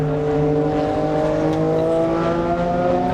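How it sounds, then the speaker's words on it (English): Classic endurance race car engines howl around a circuit at high revs during qualifying, a steady droning roar that holds without letup, with no voices heard. "we can hear the cars howling around the circuit in the background."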